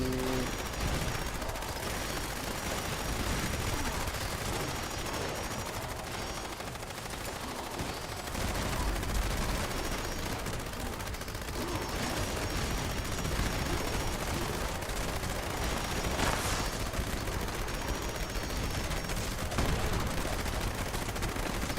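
Sustained gunfire in the online game Fallout 76, a dense, steady stream of rapid shots running continuously and loudly throughout, with a few sharper bursts standing out.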